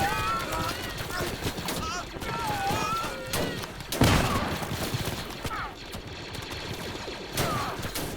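Blaster and gun fire rattle through a Star Wars: Galaxy at War clone base defense battle, continuous crackling volleys with a heavier boom midway, while a player talks over the fighting.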